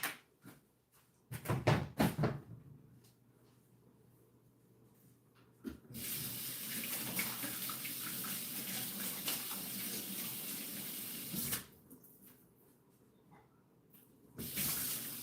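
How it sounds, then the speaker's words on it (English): Cold tap water runs while shrimp are rinsed in a kitchen sink, with a few short splashing bursts, then a steady hissing stream for several seconds, a pause, and the flow starting again near the end. "So I'm just rinsing them with some cold water."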